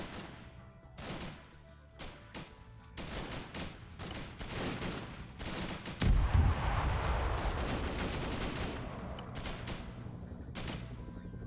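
Beehive artillery rounds burst in a Vietnam-era war game at Long Tan, with dense crackling gunfire building into a heavy, booming barrage that swells midway and keeps rolling.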